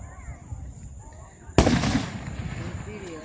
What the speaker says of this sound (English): And they got fireworks all around us.